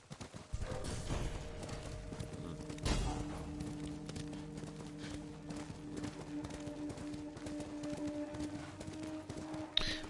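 Horse hooves clip-clop at a steady gallop in the video game Ghost of Tsushima, set in a wintry northern landscape, a continuous rhythmic thudding under low ambient game sound.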